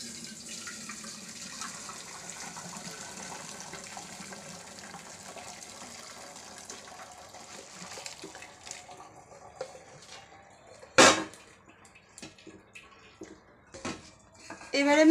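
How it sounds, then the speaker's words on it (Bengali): Cold tap water runs steadily over boiled chowmein noodles, a soft continuous gush with someone talking over it, followed by a few louder splashes and clunks near the end. "ঠান্ডা জল দিয়ে আমি সুন্দর করে চাউমিনটা একটু ধুয়ে নিচ্ছি।"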